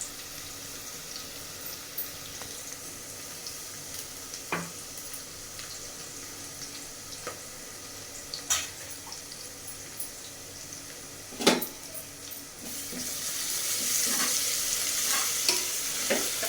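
Vegetables for a vegetable biryani sauté in a pan as a steady sizzle, with scattered scrapes and clinks of stirring and a brighter hiss swelling toward the end; no voices.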